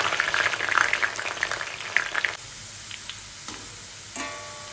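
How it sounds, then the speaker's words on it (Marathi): Grated potato fries in very hot oil for a fasting chivda, giving a loud, dense sizzle that eases after a couple of seconds into a quieter bubbling, with one brief clatter near the end. "आता हे आपण थोडा किस घालून तळून घ्यायचे।"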